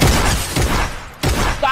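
Minigun fire in a video game bursts out as a loud, dense, continuous roar, broken by a short gap before the firing resumes.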